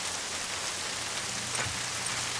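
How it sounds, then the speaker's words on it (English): Rain in the video game Just Cause 3, a steady hiss of falling rain over an unchanging low background, fairly faint and continuous with no speech. "I'm not sure why it started raining now."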